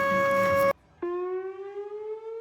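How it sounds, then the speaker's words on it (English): A tsunami warning siren in Fiji gives a loud, steady wailing tone that holds, stops abruptly, then resumes with a slowly rising pitch, heard alone. "Tsunami siren."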